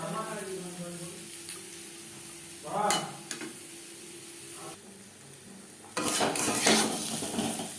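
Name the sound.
water added to chicken curry cooking in pan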